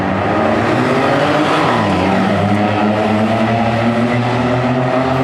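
A pack of ten equal race cars pulls away together from a standing start on the grid when the red light goes out, engines loud and close, revving up through the gears with a steady roar and a brief tire squeal.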